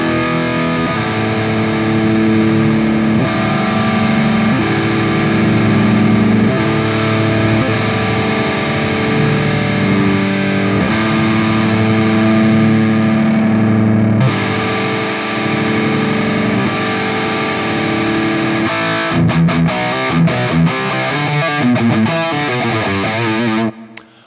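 Electric guitar played through the VH4 amp model of a Nux Trident multi-effects unit, a loud, continuous distorted tone with sustained chords and riffs running alone, ending in a short burst of choppy strums.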